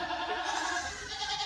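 A tiny baby goat gives a thin, faint bleat, a short wavering cry that carries alone without any talk over it.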